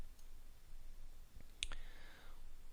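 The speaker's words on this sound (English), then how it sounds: "I'm just going to click Cancel." A single sharp mouse click on a Cancel button in school software, a short crisp tick standing out over quiet room hiss, with no talking.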